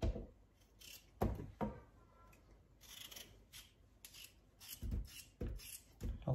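Cooked octopus is cut for a salad in a kitchen, with a few quiet snips and knocks spread over several seconds, close and faint with no talking.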